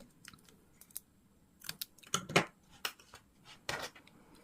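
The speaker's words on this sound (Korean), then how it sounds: "그다음에 얘를 바짝 잘라주세요." Close, crisp scissor snips trimming crochet yarn tight against a small crocheted candy flower, a scattered run of short cuts with a couple of louder clustered snaps near the middle and end.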